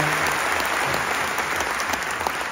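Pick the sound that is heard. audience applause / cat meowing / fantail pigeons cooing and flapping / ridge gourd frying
audience applause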